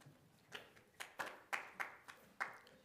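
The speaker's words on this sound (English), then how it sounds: "Please, no applause." A handful of people clap briefly at a Kern County Board of Supervisors meeting, giving scattered, uneven claps with gaps between them, fairly quiet and sparse in a large room.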